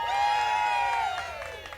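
A crowd at the State Fair cheers and whoops, with a high sustained whoop standing out over the general cheer before the noise fades a little toward the end, heard from a moderate distance.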